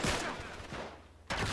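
Dense gunfire from a shootout in the video game Uncharted 3: Drake's Deception, a steady rattling burst that fades briefly and then slams back in loud and close.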